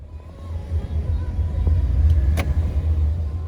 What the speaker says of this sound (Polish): będziemy jechać tym oto samochodzikiem